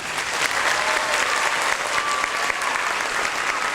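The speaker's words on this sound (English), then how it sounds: "let's give all of these wonderful people a big round of applause" A large auditorium audience claps loudly and continuously before a dance show, a thick, even wash of many hands with no break and no speech over it.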